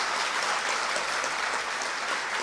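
A crowd claps in welcome at a large religious gathering, the Bageshwar Dham divya darbar held in London, a steady, fairly distant wash of applause with no pause.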